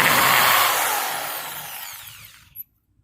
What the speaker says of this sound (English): we're gonna take the jigsaw